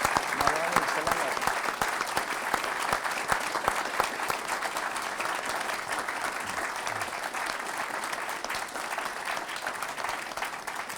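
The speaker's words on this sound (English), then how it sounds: "please help me give a round of applause to Mr. President" A sustained round of applause from an audience at a speaker series event honoring a president, even and continuous clapping heard from a slight distance, with a few voices mixed in.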